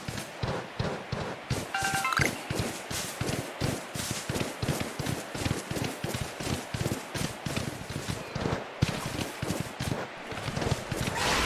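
Rhythmic hoof-like footfalls of a riding mount in Pokemon Legends: Arceus crossing open flats, a steady galloping clip-clop close and continuous throughout.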